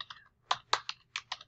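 Rapid typing on a computer keyboard: a quick run of crisp, close plastic key clicks in small uneven bursts, with nothing else heard.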